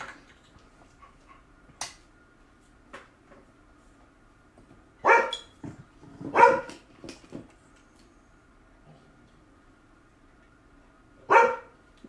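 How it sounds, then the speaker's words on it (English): A dog barks through a screen door in a few separate bursts, some single and some doubled, with quiet gaps and faint whimpers between them. "She's looking at me through the screen door, barking at me."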